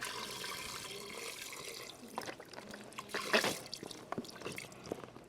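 Liquid is poured out of a pot while making lasagna soup, heard as a faint splashing trickle with a brief louder gush midway, quiet and close with no talk.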